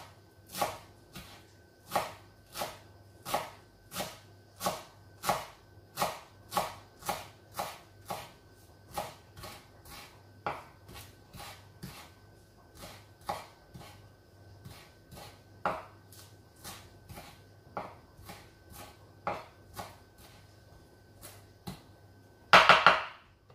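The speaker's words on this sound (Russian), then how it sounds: "Добавляем петрушку сюда, тоже нарезаем." Fresh garden parsley is chopped with a knife on a board in a kitchen, a long run of crisp, evenly spaced single knocks, close and fairly quiet, ending with a brief louder clatter.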